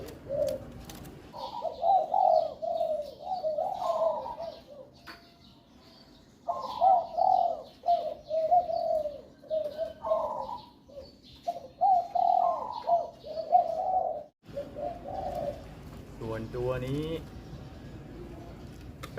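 Caged spotted doves coo in repeated rhythmic phrases, close and clear, over a low background murmur, with a voice speaking near the end.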